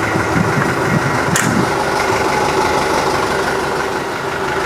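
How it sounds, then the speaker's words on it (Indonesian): Engine of a water-treatment vehicle with hydraulic jack stands, running at a steady loud rumble close by, an unbroken low idle that stays even throughout. "Untuk menghidupkan jack stand, kita perlu menghidupkan mobilnya terlebih dahulu."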